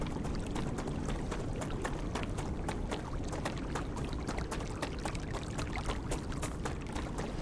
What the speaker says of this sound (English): Oh, that's running water I can hear again.